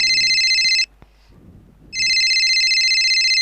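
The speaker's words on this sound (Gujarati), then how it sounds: "અરે યાર મમ્મીનો ફોન આવે છે" An incoming call rings on a mobile phone, a loud repeating electronic ringtone that stops for about a second with faint rustling in the gap, then resumes steadily.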